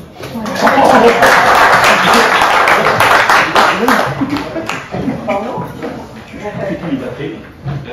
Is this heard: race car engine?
no